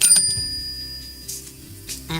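A notification bell chimes once and its bright metallic ring holds for nearly two seconds before fading, with a short voice heard at the very end.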